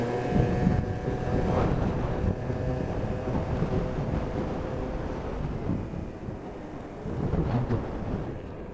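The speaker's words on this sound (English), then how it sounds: "You can hear it revving higher right away." A 50cc scooter fitted with 43-gram variator rollers in place of 52-gram ones, ridden on a top-speed run down a slight slope, its small engine droning steadily under heavy wind rumble with a brief surge near the end.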